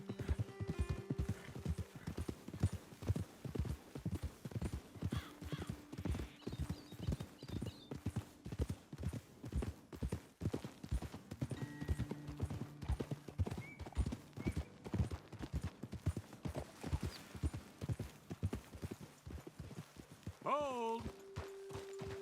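Horse hooves clip-clop steadily on a trail in Red Dead Redemption 2, a loud, regular walking rhythm running throughout, with a voice talking over it and a brief whinny near the end.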